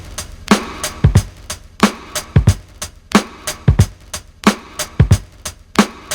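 A drum break processed through a DS-10 Drum Shaper pedal with sustain turned down loops steadily, its kicks, snares and hi-hats sounding tight, punchy and dry, with no voices.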